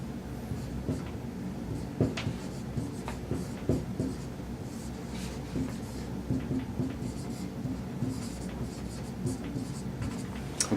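Chalk or marker scratches and taps on a board during an introductory physics lecture, a series of faint irregular strokes and clicks over a quiet room, with no voice heard.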